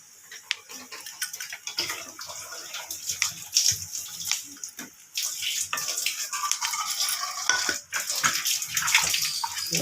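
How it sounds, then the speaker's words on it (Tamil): Sliced okra (ladies finger) sizzles in hot oil over a medium flame, a loud, steady hiss and crackle that swells into a denser roar midway. "எண்ணெய் காய வச்சுட்டு மீடியம் ஃப்ளேமில் வச்சுக்கிட்டு வெண்டைக்காவை எண்ணெயில் போட்டு ஃப்ரை பண்ணணும்"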